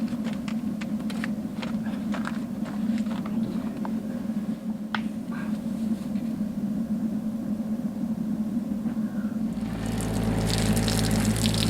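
Water runs steadily from an outdoor camp shower with a pump humming underneath, a continuous close wash of spray and drip with small clicks, turning to a louder rushing burst near the end.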